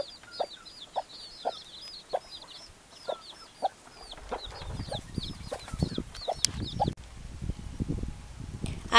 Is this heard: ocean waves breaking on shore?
no